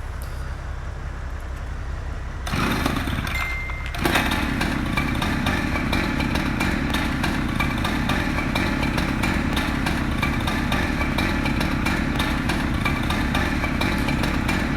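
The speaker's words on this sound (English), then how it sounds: "Alright, so we got our chainsaw." A chainsaw in the video game EmergeNYC revs up and then runs in a constant, loud buzzing drone, with faint clatter beneath it.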